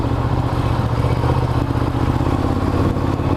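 A Ducati Diavel motorcycle engine drones steadily at close range, with a constant rumbling hum and a faint rattle throughout, and no voices.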